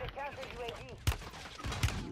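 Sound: gunfire in the video game Warzone

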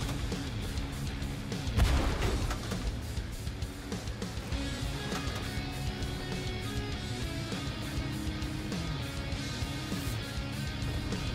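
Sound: artillery bombardment in a World War tank video game

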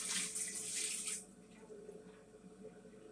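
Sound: water dumped from a tortoise soaking tub into a toilet

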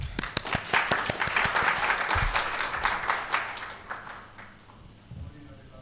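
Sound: audience applause at a symposium

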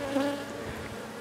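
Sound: guard honey bees buzzing around beekeeper at hive

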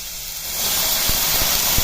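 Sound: water poured into hot pan sizzling

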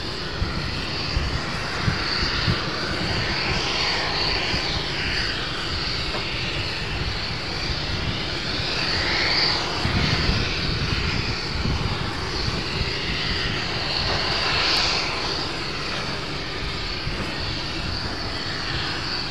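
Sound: Boeing 747 taking off at Amsterdam Schiphol

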